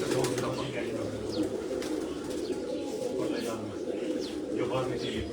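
Sialkoti pigeons coo softly and continuously on a rooftop, a low murmuring layer of calls with occasional sharper chirps, while someone talks over them.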